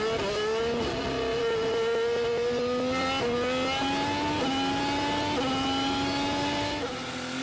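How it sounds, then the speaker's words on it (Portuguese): Formula 1 cars in the 2025 season roar off the race start, heard from onboard: a loud, continuous high-revving engine whine that climbs through gear after gear, each upshift dropping the pitch briefly before it rises again. "essa câmera colocada no Carlos Sainz, no carro do Carlos Sainz, mostra para nós aí a largada do Hamilton, ali atrás do Tsunoda"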